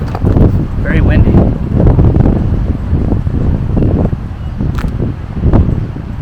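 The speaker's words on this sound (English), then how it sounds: "Sorry for the wind. This might not come out." Loud wind buffets the microphone in heavy rumbling gusts while a person talks underneath, with brief snatches of other voices.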